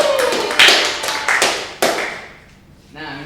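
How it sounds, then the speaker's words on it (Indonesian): Students in a classroom clap their hands in short bursts, a few sharp loud claps that fade out, followed by brief speech. "Tepuk tangan untuk kalian semua"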